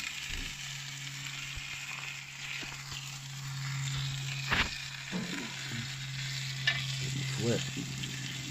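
Rabbit fillets sizzle steadily in a Lidl cast iron skillet, a quiet continuous fry with a low hum beneath and a few clinks and taps from turning the meat.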